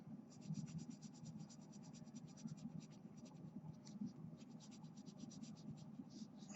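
Colored pencil scratching on paper while filling in a color wheel: a steady, close run of rapid, light strokes that continues without pause and without talk.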